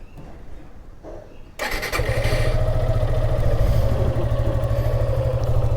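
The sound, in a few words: Suzuki Gixxer SF motorcycle cold start and idling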